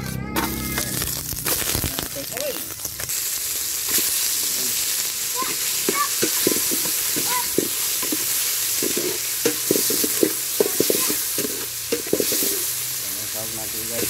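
Skinless sausage and other ingredients stir-fried in a casserole pot for pansit bato, a steady close sizzle with repeated scraping and clinking of stirring, a sharp clatter at the start.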